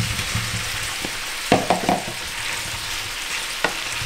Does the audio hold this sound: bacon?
yes